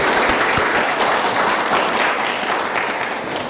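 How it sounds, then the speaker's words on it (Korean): A church congregation applauds with dense, sustained clapping that fills the room and fades slightly toward the end. "여러분 모두 이 감사의 마음을 담고 우리 하나님 앞에 힘찬 박수 한번 쳐 올리십시다"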